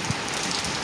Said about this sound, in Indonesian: mulai turun gerimis dan lama-lama menjadi hujan yang lumayan basah